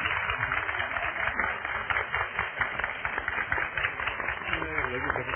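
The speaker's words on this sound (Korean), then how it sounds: "마지막으로 다시 한번 오늘 말씀 감사드리는 큰 박수 보내드리면서 오늘 순서 마치겠습니다" Audience applause closes a talk show, with dense, steady clapping from a crowd filling the room, heard under ongoing voices throughout.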